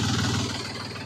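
A tractor engine idles steadily on a cold early morning, a continuous low mechanical rumble with even vibration, close and fairly loud throughout, with no voices.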